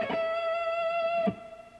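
Distorted electric guitar shred lick running down two octaves, heard as a brief rapid burst that settles into one long sustained, singing note before it stops, played alone and loud.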